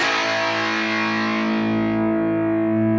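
An Ibanez SD9 Sonic Distortion guitar pedal drives a loud, sustained distorted guitar chord as its tone control is swept down, the bright top gradually darkening while the low end swells, with no talking.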